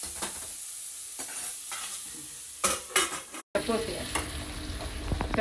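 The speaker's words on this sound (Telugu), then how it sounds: "మెల్లిమెల్లిగా కదుపుతూ ఉండాలి." Drumsticks frying in oil in a pan and being stirred, a steady sizzle broken by several sharp scrapes and clatters of a utensil against the pan.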